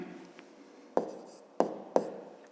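A pen on paper while working a fifth-grade math exercise: a faint scratch, then three sharp, distinct strokes spaced about half a second apart.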